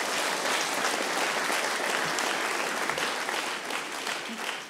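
Students clap in a sustained round of applause at a college opening ceremony, a dense continuous wash of many hands that holds steady for several seconds before starting to fade.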